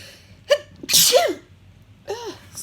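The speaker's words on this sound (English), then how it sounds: "I'm about to sneeze because of the onion." A person sneezes, set off by onion, with a short sharp burst preceded by a brief intake and followed by a softer vocal sound, close and loud.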